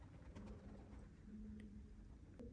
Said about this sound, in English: Can you hear those pigeons?